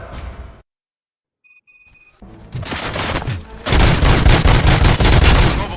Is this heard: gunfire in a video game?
yes